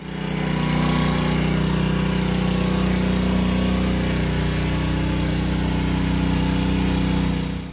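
A Harbor Freight Warrior 7-inch rotary polisher runs with a steady, loud, droning motor hum from start to finish, close by, with no speech.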